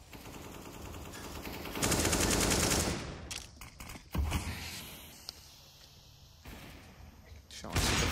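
AK rifle gunfire from CS:GO on the Cobblestone map rattles in bursts of rapid automatic shots, loud and close, separated by sharp slams and quieter gaps with faint ambient noise.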